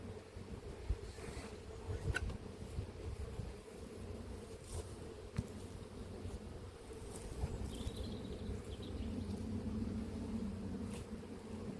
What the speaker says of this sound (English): There's a box of bees in there, as Ian says.